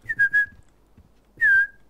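A person whistles two short bright notes, pauses, then gives one longer sustained whistle, close and clear with little else around.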